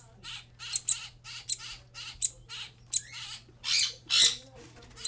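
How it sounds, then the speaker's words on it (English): Baby downy woodpeckers squawking in a mesh cage, a rapid series of about a dozen harsh, raspy chirps in uneven bursts, close and loud over a low steady hum, with no talk. "These are downy woodpecker babies."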